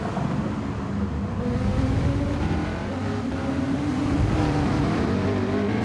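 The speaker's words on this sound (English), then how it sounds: "can just hear the cars really struggling to put the power down" Racing cars on a wet circuit in a racing video game, a dense continuous engine roar with wavering pitch as they struggle for traction in heavy rain, loud and steady throughout with no voices.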